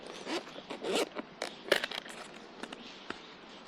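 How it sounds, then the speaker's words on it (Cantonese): The zipper on a DroneMask 2 drone goggles case is pulled closed in several quick, close rasping strokes, with no talk. "佢條拉鏈咧，專登做到2個拉鏈扣嘅，所以咧可以咁樣拉埋之後，就俾個位 cable 走。"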